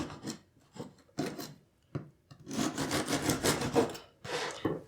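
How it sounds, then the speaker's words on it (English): A serrated knife saws through a loaf of gluten-free double chocolate peppermint biscotti into half-inch slices, short rasping strokes that run together into a longer stretch of sawing, close and fairly quiet. "we're going to cut it into slices with a serrated knife"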